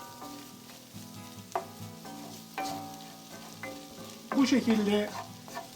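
Chicken liver with garlic sizzles and crackles in a pan while being stir-fried, with scraping stirs and a louder sizzle burst near the end; a voice speaks a few words briefly.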